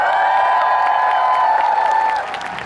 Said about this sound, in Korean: 친구들한테 큰 박수 보내주십시오